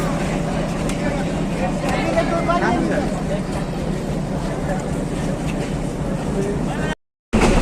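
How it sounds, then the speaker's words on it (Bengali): Steady, loud rumble and rattle inside a Narayanganj commuter train as it pulls out of Pagla station, continuous under faint background voices, with a short dropout near the end. "ট্রেন এখন পাগলা স্টেশন থেকে ছেড়ে দিয়েছে"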